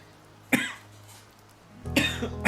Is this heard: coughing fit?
yes